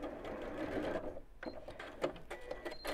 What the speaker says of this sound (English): And then I'm going to sew down the centre of the pocket.